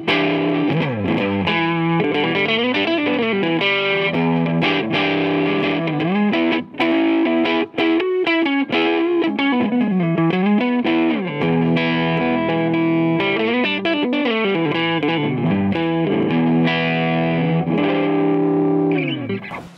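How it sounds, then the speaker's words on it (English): An electric guitar played through a Fuzzbubble-45 pedal pushing the amp into distorted overdrive, with sustained chords and shifting riffs, loud and continuous for about twenty seconds without talk. "it takes you from a mild overdrive to just pushing the front end of the amp to a distorted overdrive"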